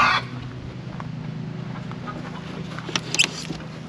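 A backyard hen clucks nearby in short bursts after laying an egg, louder toward the end, over a low steady background hum.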